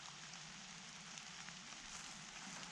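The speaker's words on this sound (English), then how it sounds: "All this rain that's falling is really making this hard to hear" Rain falls steadily through a forest during shotgun deer season in Iowa, a dense even hiss of drops on leaves and ground with no talk.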